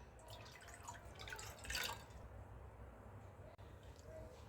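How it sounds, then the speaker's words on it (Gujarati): Water poured from a cup into a vessel for kneading wheat flour dough, a short splashing trickle and drips, faint and close, in a quiet room. "હવે તેમાં એ જ કપના માપથી પાણી લેશું જેનાથી આપણે લોટનું માપ લીધેલું છે"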